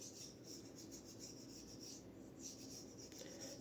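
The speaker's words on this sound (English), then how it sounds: "only need 2 more minutes of honing" A straight razor rubs back and forth on a Coticule whetstone in a soft, steady rasping rhythm of repeated strokes, heard close and quiet with no talk.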